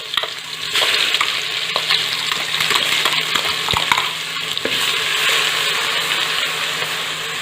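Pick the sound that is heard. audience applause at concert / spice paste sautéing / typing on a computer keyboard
spice paste sautéing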